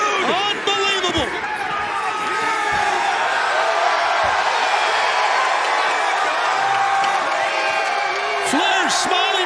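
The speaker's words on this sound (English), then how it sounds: "And listen to this crowd, it has come unglued." An arena crowd at AEW Dynamite goes wild during Sting's wrestling entrance, a sustained roar of cheers and whoops with a commentator talking over it.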